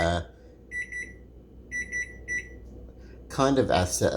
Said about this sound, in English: I set alarms.